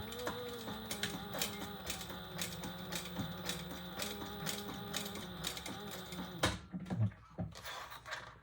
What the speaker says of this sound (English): Now we're going to stitch across this at 1/8 of an inch top stitch.